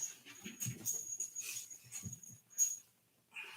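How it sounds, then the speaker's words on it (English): Small dog making low growls and whimpers in soft repeated bursts, close and quiet, with a faint steady whine running throughout. "he's growling a little bit too much for me"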